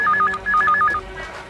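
A telephone rings in a domestic setting, giving two bursts of a high electronic trill with a short gap between them, loud and close, with no voices over it.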